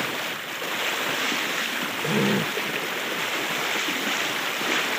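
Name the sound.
river floodwater rushing in waves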